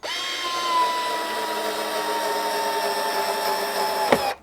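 Cordless power drill driving screws into a plastic garden shed roof moulding, a close, loud steady motor whine held for several seconds before ending with a brief clunk.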